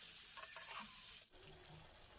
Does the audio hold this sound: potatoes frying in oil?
yes